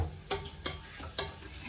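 Carrots finish cooking in a home kitchen pot, a soft, steady sizzle broken by a few quiet scraping stirs spaced roughly every half second, close and low in level with no one talking.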